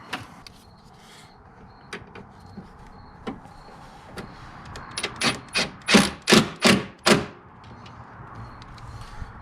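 Self-tapping screw driven by a power drill into a metal mounting plate during a Chevrolet Colorado accessory install, a series of short bursts that climb in loudness before stopping, close up.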